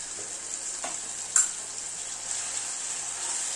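Turmeric, Kashmiri red chili powder and Malvani masala frying in hot oil for a Kolhapuri egg curry, giving a steady, fairly quiet hiss with a couple of faint stir clicks and no talking.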